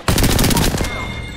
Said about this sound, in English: I was shooting into the smoke.